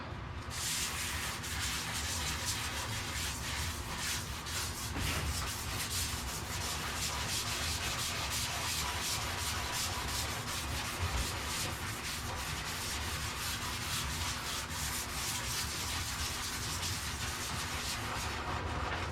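Steady, continuous abrasive sanding hiss as wood edges are softened, with a constant machine hum beneath it, close and loud for the whole stretch.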